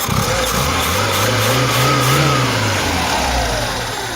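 A car engine runs loudly and revs up and down, the pitch rising and falling in a smooth sweep, with no voices over it.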